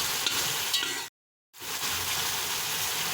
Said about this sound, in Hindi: हमने उस वक्त तक फ्राई करना है जब तक कि टमाटर गल ना जाए।